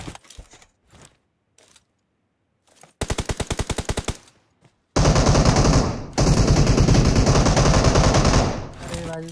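Loud gunfire during a fight in the mobile battle royale game BGMI: scattered single shots, then a rapid automatic burst, then a long sustained full-auto volley, close and dominant.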